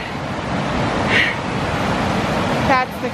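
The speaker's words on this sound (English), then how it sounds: "That's the creek crossing." Steady broadband rush of a rain-swollen creek flowing at a crossing, close and continuous, with a faint brief whistle-like tone near the end.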